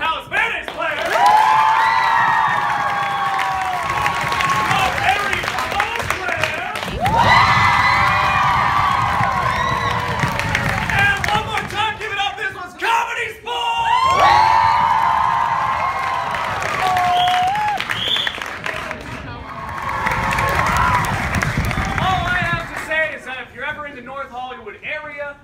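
An audience at a high school ComedySportz improv match applauds and cheers for the visiting players, with whoops and shouted voices riding over sustained clapping that swells and dips across the whole stretch.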